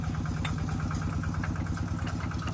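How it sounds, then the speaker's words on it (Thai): A TF85 single-cylinder diesel engine running with a rapid, steady thumping chug and metallic clatter, loud and close throughout with no talking. "สตาร์ทเครื่องยนต์"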